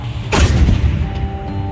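Cannon fired at Fort Michilimackinac in Mackinaw City, Michigan: a single loud, close boom followed by a rumbling decay and faint background noise.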